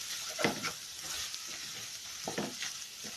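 Beetroot biryani masala is stirred in a pan with a steady sizzle. A spoon scrapes through it in a few distinct strokes, close up, with no voices.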